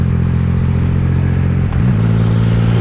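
Triumph Rocket 3 motorcycle with a quick shifter dropping a gear, its loud, steady engine note shifting pitch abruptly partway through, then settling into a smooth, deeper drone.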